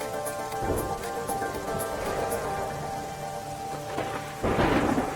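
Heavy rain falls during a storm in Rajkot, a constant downpour with deep rolls of thunder rumbling through it and a louder thunderclap swelling near the end.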